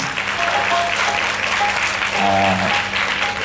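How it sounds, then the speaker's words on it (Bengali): An audience applauds loudly and continuously in a hall at a Sufi song concert on the Rabindra Sadan stage in Baharampur, with a faint tonal hum running beneath the clapping. "সকলে জোরে হাততালি দিন"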